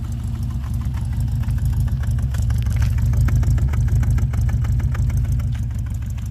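A car engine idles close by, a loud steady low rumble with a quick regular ticking pulse running through it.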